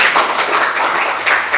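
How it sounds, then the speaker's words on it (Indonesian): A class applauds in a classroom, giving a loud, close burst of clapping from a small group, with uneven pulses of hands through the short stretch. "Kita beri tepuk tangan dulu dong."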